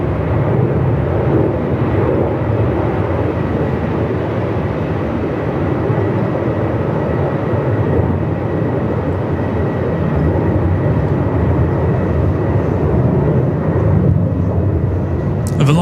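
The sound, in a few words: aircraft taking off from runway 34 at Melbourne Airport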